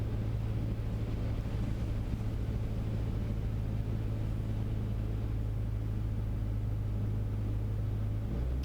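A Cessna 152's piston engine drones at full throttle during a go-around, a steady, loud cockpit rumble with a constant low hum and broadband airflow noise, no talking.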